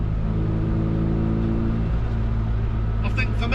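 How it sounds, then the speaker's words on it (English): A tuned classic Mini with a drilled air box sends out a loud, steady low engine drone under way, rich in humming harmonics, with a voice breaking in briefly near the end. "I think that drilled air box at the front just giving a bit more induction noise"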